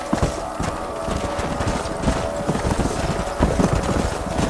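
Horses' hooves clip-clop steadily in Red Dead Redemption, a busy, close rhythm of overlapping hoofbeats from several animals over a constant background rumble.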